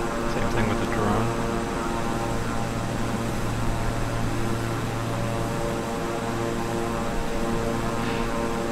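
Simulated Beechcraft 350i King Air twin turboprop engines drone steadily and loudly throughout, a constant propeller hum with faint higher whine layered on top, flying near San Antonio and Corpus Christi in Microsoft Flight Simulator.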